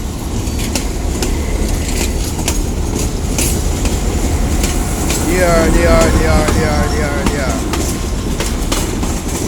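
Windalco freight train rolling past, a loud steady rumble of iron wheels with clicking rail joints and a stretch of squealing wheels, while someone talks nearby.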